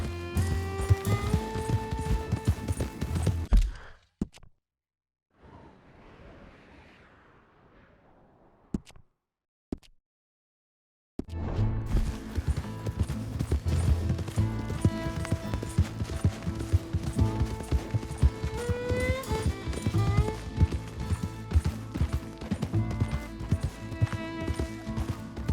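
Galloping horse hooves in Red Dead Redemption 2, a steady rhythmic clip-clop under a loud game music score that returns after a brief quiet gap.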